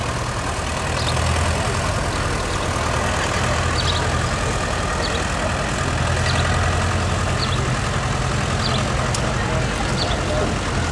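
A 1950 McCormick WD9 tractor engine runs steadily in a small-town centennial parade, a loud continuous low rumble close by, with voices of people talking over it.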